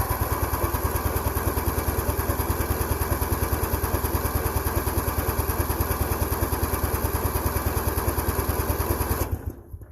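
A Craftsman LTX1000 lawn tractor engine, just rebuilt and running on choke, chugs in a steady fast putter for several seconds, then cuts out and dies away.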